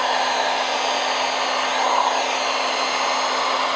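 A heat gun or hair dryer blows steadily at close range while heating a wrap film. The whirring hum is loud and continuous, with no pauses and no voices.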